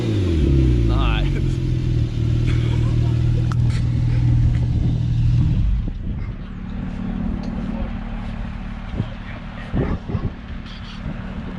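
A Corvette engine revs hard and close, a loud, rich harmonic roar for several seconds before dropping to a lower rumble with road noise as people talk over it.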